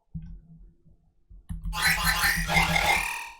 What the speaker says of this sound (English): stack a bunch of like notes on top of each other to give it like a weird like stutter, like glitch sound